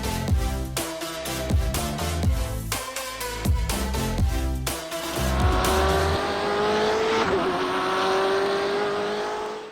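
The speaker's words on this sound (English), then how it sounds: "The car, a BMW M8 GTE with a 4-litre turbocharged V8 engine, giving you 500 brake horsepower." A BMW M8 GTE race car with a 4-litre turbocharged V8 of 500 bhp, driven in a racing simulator, with engine revving through gear changes and tyre squeal, mixed loud with music that drops away partway through.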